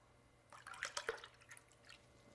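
A brief trickle of Kangen water pouring into a container, soft splashes and drips over about two seconds, quiet and close.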